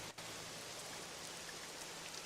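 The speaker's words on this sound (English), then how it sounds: "To the sound of rain in the background." Rain falling outdoors makes a steady, dense hiss of drops on surfaces, heard from indoors as an even background wash with a faint low hum beneath it and no talking.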